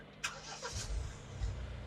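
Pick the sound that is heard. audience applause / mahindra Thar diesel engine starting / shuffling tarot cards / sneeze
mahindra Thar diesel engine starting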